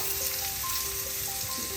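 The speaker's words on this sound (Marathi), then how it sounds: "आता हे आपण या तव्यामध्ये तळण्यासाठी त्यांना घालूया" Semolina-coated pomfret fish fry in hot oil on a tawa, giving a close, continuous sizzle with faint popping, no talk over it.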